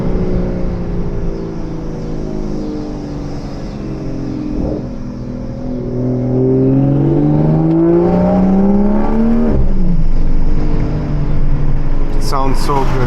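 Hybrid turbo Toyota Supra engine revving up, its pitch climbing in long sweeps with turbo whine, loud and close, building to a peak near the end before easing off.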